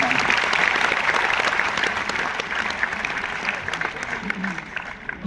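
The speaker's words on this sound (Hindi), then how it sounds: "इस बात पर भी एक बार जोरदार तालियां बजनी चाहिए" Sustained applause from the audience at a kavi sammelan poetry gathering in Rohtak, a dense steady wash of many hands clapping that holds strong for several seconds, with faint voices mixed underneath.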